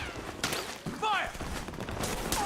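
Soldiers' gunfire in Metal Gear Solid 4 crackles in scattered bursts through a busy battle mix, with shouted voices over the shots and a bright whistling streak cutting through midway.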